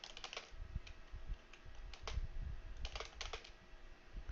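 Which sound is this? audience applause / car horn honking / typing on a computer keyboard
typing on a computer keyboard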